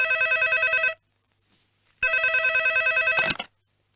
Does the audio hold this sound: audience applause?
no